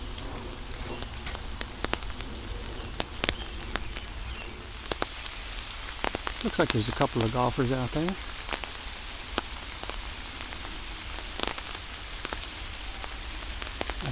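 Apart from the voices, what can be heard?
rain falling in Wissahickon Valley Park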